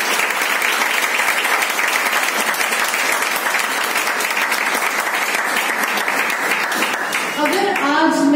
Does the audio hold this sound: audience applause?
yes